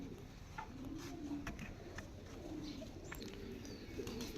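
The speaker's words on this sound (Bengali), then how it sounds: "এই সবগুলোই আমার ফিমেল কবুতর।" Female breeding pigeons coo softly and intermittently, faint and somewhat distant, over a constant background hiss.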